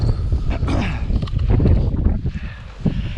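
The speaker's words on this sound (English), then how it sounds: "It's quite windy, you might be able to hear that" Wind gusts roar across the mic on the exposed hillside at Winnats Pass near Castleton in the Peak District, loud and buffeting with rising and falling surges.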